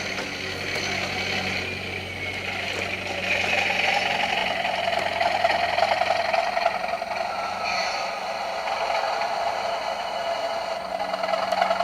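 Bachmann Class 37 model locomotive (37012 Loch Rannoch) running on its track, a steady whirring motor hum with faint rail clatter that swells as it accelerates and eases off, heard close and alone without talk.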